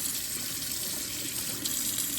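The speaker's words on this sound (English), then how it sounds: "we are going to completely submerge these under running water, and we're going to scrub them with a toothbrush" Tap water runs steadily into a sink as leather pieces for a dice bag are scrubbed under the stream with a toothbrush, a constant close splashing gush with no talking.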